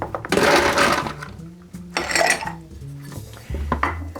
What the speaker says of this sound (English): And we're gonna shake it for a good